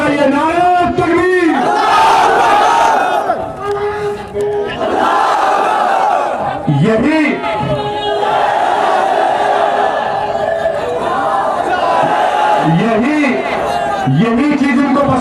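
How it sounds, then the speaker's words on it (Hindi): A large crowd at an outdoor political rally in Jaunpur chants the Takbir slogan in loud, repeated call-and-response bursts, a lead voice shouting over a massed roar of voices. "तो जोर से नारा लगाइए, नारे तकबीर।"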